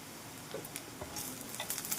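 Onion fries in a pan for a quick chutney, a soft sizzle with a few light scraping stirs and utensil taps, faint and close.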